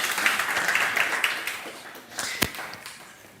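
Conference audience applauding as a speaker is invited on stage, a dense patter of clapping that thins and fades over a few seconds, with one sharp louder clap near the end.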